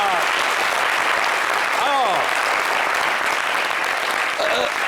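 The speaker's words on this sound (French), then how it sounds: "j'aimerais que, bon, on fasse une ovation pour ça" Sustained studio audience applause, a dense, even ovation holding at full strength for the whole stretch, with voices cutting through the clapping.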